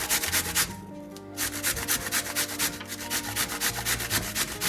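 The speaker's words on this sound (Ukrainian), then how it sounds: "Беремо нашу тарілку, тертушку і починаємо терти" Zucchini grated by hand on a kitchen grater over a plate, a close, steady run of rhythmic rasping strokes with a brief pause near the start, no voices.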